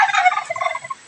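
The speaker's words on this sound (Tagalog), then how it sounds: "Oh, daming pabo" Turkeys gobble in a quick, close, warbling burst of rapid calls lasting about a second, then fall silent.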